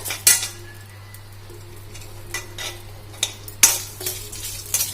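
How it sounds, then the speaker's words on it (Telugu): Lentils fry in a couple of teaspoons of oil for a fenugreek-leaf and carrot chutney, with a quiet sizzle under repeated scraping and clinking as a spoon stirs against the pan. "ఆయిల్ వేసుకున్న తర్వాత కొంచెం మళ్ళీ కొంచెం అయితే ఇట్లా వేయించుకోవాలన్నమాట"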